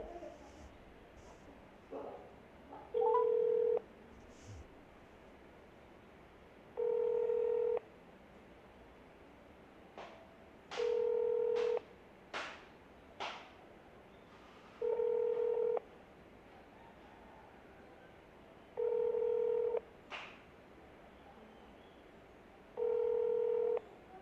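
Telephone tones on a call that gets forwarded to voicemail: six evenly spaced tone bursts, each about a second long and roughly four seconds apart, with faint clicks and scattered background noises in between.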